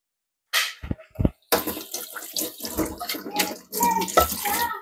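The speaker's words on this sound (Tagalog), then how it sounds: "i-drain ko lang yan siya" Water is drained from pickled mango ingredients, coming in after a few short knocks as a close, splashing pour that continues with gurgling bursts.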